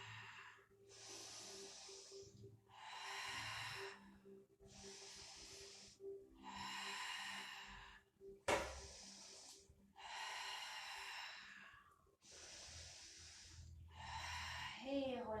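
Long, forceful exhalations through the mouth during a lateral-chain strengthening Pilates exercise, seven or eight steady hissing breaths repeated in an even rhythm, close and fairly loud over quiet room tone.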